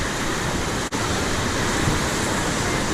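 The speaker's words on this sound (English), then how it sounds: "That is a nasty pour over." Whitewater on the Pigeon River rushes over a pour-over in a loud, dense, unbroken roar, heard close up with one brief dropout, and no talking.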